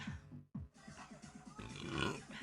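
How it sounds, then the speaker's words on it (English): A woman burps repeatedly in a rapid series of deep, guttural belches, each one short and voiced, with a brief pause before a longer, louder burp at the end. Heard close up, with no talk. "I'm so sorry, I'm burping."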